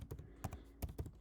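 Quick keystrokes clack on a computer keyboard while a student name is entered into a Python program, several close, irregular taps in a short burst.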